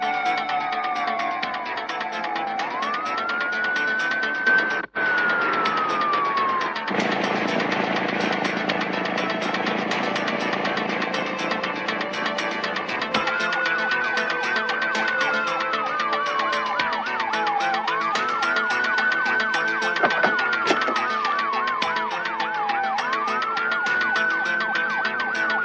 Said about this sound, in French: T'entends pas des sirènes de police?